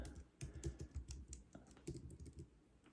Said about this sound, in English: So I'm going to type in Top Gun.